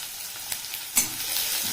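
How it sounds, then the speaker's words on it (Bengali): Chopped onion frying in a pan for a Bengali mustard-poppy okra dish, a faint steady hiss with a soft stir clatter near the start and a sharper scrape midway, no voices. "পেঁয়াজটাকেও আমি 1 থেকে 2 মিনিট ফ্রাই করে নেব।"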